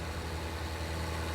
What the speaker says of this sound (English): So this is how I figured out how to turn out this tractor and trailer around.